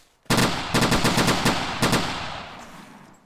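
Rapid bursts of automatic enemy gunfire in the WWII shooter Iron Front 1944, loud and close-sounding, in several quick volleys separated by short gaps and trailing off into a fading echo, with no talk.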